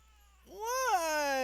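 A cat lets out a single drawn-out meow, rising then falling, close and fairly loud after a brief quiet moment indoors.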